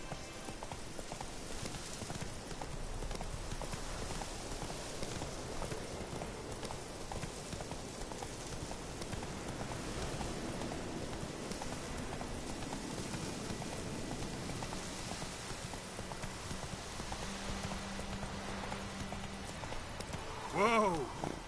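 Roach, the horse in The Witcher 3 video game, gallops in a steady, soft rhythmic clip-clop that runs continuously under ambient game sound, with a brief sharper noise near the end.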